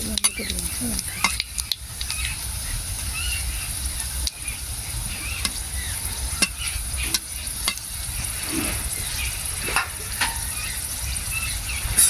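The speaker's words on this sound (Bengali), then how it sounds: "এবারে দিয়ে দেবো কালো জিরে শুকনো লঙ্কা বড় নিয়ে ছিল" Nigella seeds and large dry red chilies sizzle in hot oil with a steady crackling hiss. Sharp clicks and spatula scrapes break in every second or two, close and without voices.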